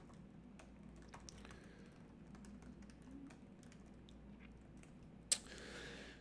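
Soft, quiet typing on a computer keyboard, scattered light key clicks in an irregular rhythm with one sharper click near the end.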